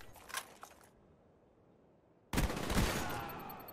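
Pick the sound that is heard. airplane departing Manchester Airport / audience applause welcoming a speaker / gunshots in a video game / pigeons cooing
gunshots in a video game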